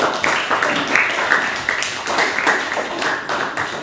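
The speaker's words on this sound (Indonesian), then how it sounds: "Beri tepuk tangan untuk awak." Classroom applause for a student: a group claps together in a rapid, uneven patter that rises and falls over a few seconds, fairly close, with faint murmuring in the room.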